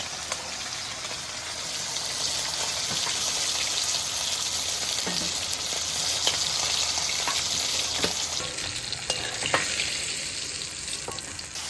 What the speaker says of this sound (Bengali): এইভাবে আমি সব মাছ কটাই ভেজে নেব